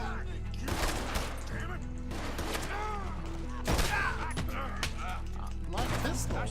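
Bursts of video game gunfire from a Red Dead Redemption 2-style western shootout crackle repeatedly in rapid volleys, with loud sharp shots spread through the scene while a voice speaks over them.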